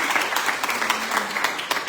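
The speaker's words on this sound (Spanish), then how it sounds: "Un aplauso a él" Church congregation applauding during a testimony service, a steady dense patter of hands filling the whole short stretch at moderate volume.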